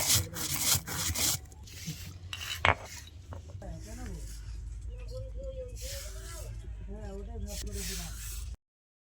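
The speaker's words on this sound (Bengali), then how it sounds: "এবার আমি তুলে শিলের মধ্যে গুঁড়িয়ে নেব।" Roasted coriander, black pepper, cardamom and cloves are crushed on a stone grinding slab, giving repeated close scraping and rubbing strokes of stone on stone, with someone talking over parts of it.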